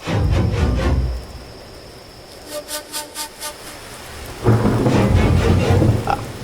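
Thunderstorm with rain outside at night: loud steady rainfall, a fading stretch with a few rolling rumbles and cracks of thunder, then heavy downpour returning, no voices.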